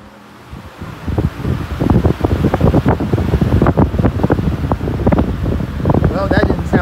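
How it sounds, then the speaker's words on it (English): An iLiving 20-inch high velocity fan runs loudly with a steady rushing roar and rapid irregular rattling pulses, as if the blade were loose on its shaft. "It almost sounded like that blade was loose on the shaft."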